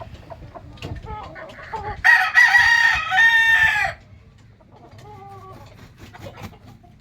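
A fighting rooster gives a loud, clear crow lasting about two seconds, with scattered clucks and soft clucking calls before and after, close to the microphone.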